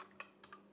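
A few isolated clicks from an inexpensive Temu mechanical keyboard, three separate keystrokes spaced unevenly over a soft hum, close and quiet.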